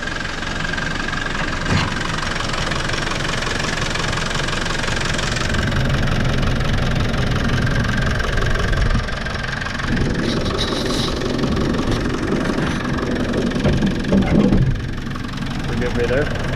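Land Rover 300Tdi 90 diesel engine idling with a steady, slightly knocking rumble, and someone talking over it at times.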